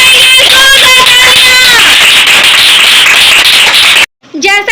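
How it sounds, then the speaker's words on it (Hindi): Loud, continuous applause from a children's ministry audience at a Bible commandments competition, steady clapping for about four seconds with children's voices and talk over it, then a sudden cutoff before brief speech. "जोरदार तालियां।"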